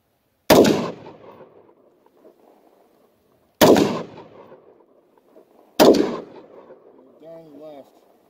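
Three sharp, loud AR rifle shots ring out a couple of seconds apart outdoors, each with a short echoing decay, and a voice speaks briefly after the last.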